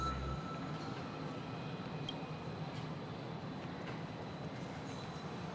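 In the Honkai: Star Rail video game, a train runs at a steady pace, a faint, continuous low rumble of carriages and wheels with a soft hiss and occasional light clicks, and no talking.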